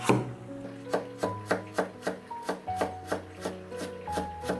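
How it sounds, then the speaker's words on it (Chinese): A knife chops carrot slices into small dice on a cutting board, about a dozen evenly spaced, close knocks in steady rhythm over soft background music. "再准备半根洗净的红萝卜，切薄片以后也切成小碎丁。"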